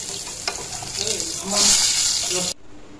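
Spice paste frying in hot oil for a fish curry with sponge gourd, a loud close sizzle with stirring scrapes that swells for a moment and then cuts off abruptly near the end.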